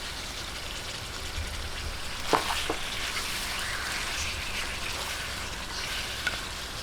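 Chicken sautéing in a pan with soy sauce for chicken guisantes gives a constant, moderate sizzle, broken by a few brief clinks of stirring, with no one speaking.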